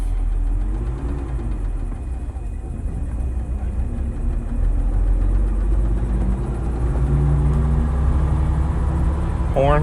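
A 1956 Mercedes-Benz 300Sc Coupe engine rumbles steadily and pulls away, its low drone rising slightly, with someone talking over it.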